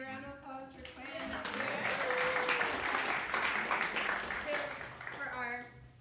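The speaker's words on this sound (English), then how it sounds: "Give a big round of applause for Quinn." A congregation at a Unitarian Universalist Sunday service applauds a helper named Quinn, a swell of clapping that rises over brief talk and tapers off, with a person speaking near the end.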